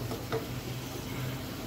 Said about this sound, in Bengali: এই মশলাগুলোর সাথে চিংড়িগুলোকে জাস্ট একটু ভেজে নিব।